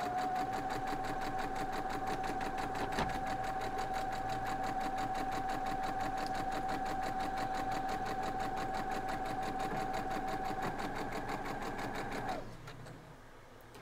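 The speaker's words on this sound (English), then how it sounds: "we're going to sew back down through." A sewing machine stitches a quilt block, running at a fast, even, rapid chatter for about twelve seconds before it stops, leaving a quieter room.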